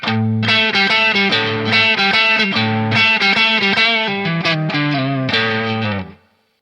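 Electric guitar through an overdrive pedal in Tubescreamer mode plays a lively riff of picked notes and chords at steady volume for about six seconds before fading out.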